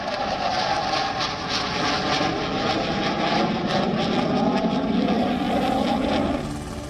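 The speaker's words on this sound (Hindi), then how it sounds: "जब आसमान को चीरते हुए रफाल निकलता है" A Rafale fighter jet roars past at the Aero India 2021 air show, a loud continuous engine roar that holds steady for several seconds before easing slightly at the end.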